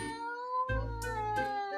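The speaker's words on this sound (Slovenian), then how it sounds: "Kar poglej si naše mačke, samo zdraho bi delale." Cats on a farm meowing, a couple of drawn-out, tonal cries with rising and falling pitch, close and clear with no speech.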